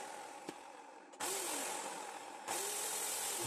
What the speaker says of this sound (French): il tourne bien comme il faut le moteur